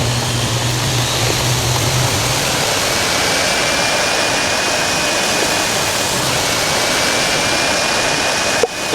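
Airbus A340-600 jet engines spooling up in a flight simulator game, a broad steady roar with a thin high whine gradually rising, a low hum fading early and a click near the end.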